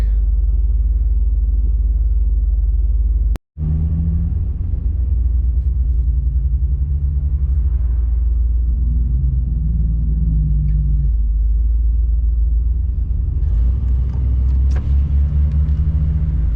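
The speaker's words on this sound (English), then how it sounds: "Semi behind me sounds awesome." A semi truck rumbles past nearby, a deep steady roar of engine and road noise lasting throughout, with a brief dropout near the start.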